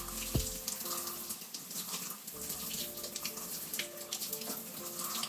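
Water runs from a tap in a bedroom for hair washing: a steady, bright hiss of flowing water with faint splashing, continuous and close, along with some faint background sounds and no talking.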